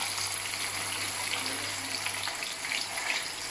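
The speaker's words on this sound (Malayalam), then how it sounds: "അപ്പം നമ്മൾ നമ്മുടെ ആ മീൻ ഫ്രൈ ആക്കാൻ വെച്ചിട്ടുണ്ട്." Fish fries in a pan with a soft, continuous crackling sizzle and a low hum underneath that fades partway through, with no voices.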